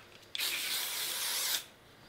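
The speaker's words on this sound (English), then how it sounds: "just add light hold hairspray all the way around" Light hold hairspray sprayed around short hair from an aerosol can, one steady hissing burst of a little over a second, close and fairly quiet, with no talking.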